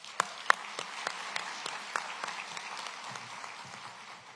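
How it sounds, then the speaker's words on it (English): Audience applause at a police-community relations awards ceremony honoring officers and their families in Charlotte-Mecklenburg, moderately distant clapping from a crowd in an indoor hall with a few sharper nearby claps, no talk. "give another round of applause to all of our officers and their families that are in this space tonight with us"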